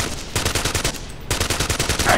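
Rapid automatic gunfire in a tactical shooter video game, loud and close, in two sustained bursts of evenly spaced shots split by a brief pause.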